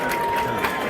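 Crowd at a live boxing event in Glen Burnie, Maryland, giving a round of applause after a unanimous-decision bout; a steady, dense wash of clapping and cheering fills the short moment without letup.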